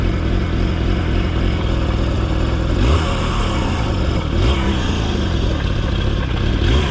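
A big bore two-stroke motorcycle engine, still cold, runs loud and close, with a rough, rattling idle that rises into throttle revs and falls back again.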